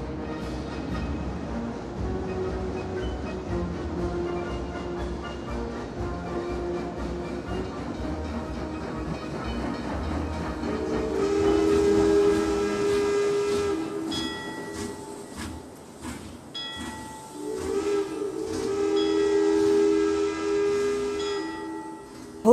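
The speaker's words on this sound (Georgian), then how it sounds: "მატარებელი ჩამოდგა." A steam train pulling into a station, with a steady hiss and rumble that builds to loud, long steam whistle blasts midway, then a second whistle blast near the end, with no talking.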